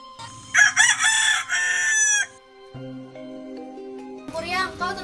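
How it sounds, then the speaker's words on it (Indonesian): A rooster crows loudly at dawn, a long warbling cock-a-doodle-doo close by over a low hum, followed by a steady tone and a brief burst of other noise at the end. "terdengar suara ayam berkokok tanda pagi hari datang"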